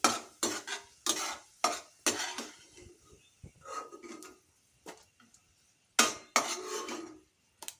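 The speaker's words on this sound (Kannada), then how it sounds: "ಇದೇ ತುಪ್ಪಕ್ಕೆ ಗೋಡಂಬಿ ದ್ರಾಕ್ಷಿ ಹಾಕಿ ತೆಕ್ಕೊಳ್ತೀನಿ" Cashews and raisins fry in ghee while a spoon stirs and scrapes the pan. Bursts of stirring and clinking repeat close up over a soft sizzle, with quieter gaps between them.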